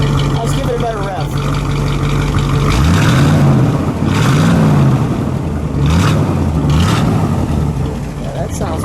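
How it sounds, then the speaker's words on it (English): A 1964 Studebaker Avanti in turquoise with a supercharged R2 engine idles roughly, then revs several times in rising and falling surges, loud and close, with a person talking over the engine. "let's give it a better rev."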